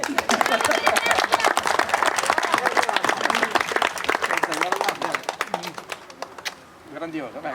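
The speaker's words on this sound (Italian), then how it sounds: "3, 2, 1, applauso." Dense, close clapping from an audience erupts on cue at a live Italian event, loud and continuous before tapering off near the end, with voices faintly audible underneath.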